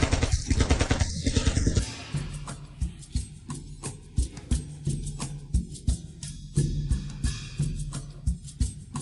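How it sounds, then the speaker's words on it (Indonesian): Rapid bursts of Gatling gun fire in a game set during an ancient famine, heard as steady, evenly spaced sharp reports of moderate loudness. The firing continues through the whole stretch with a low rumble beneath it. "Tuan Besar telah menembak mati pengkhianat besar Yuan"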